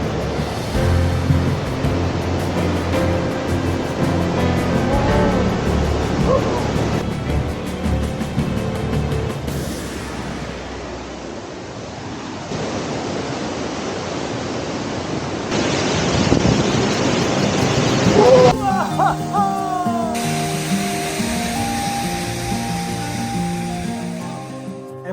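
Nardis waterfall in Val Genova, heard as steady broadband rushing water. The roar shifts in level and character several times, with some tonal sounds near the end.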